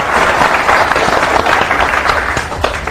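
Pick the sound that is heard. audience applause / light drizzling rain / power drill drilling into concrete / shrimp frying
audience applause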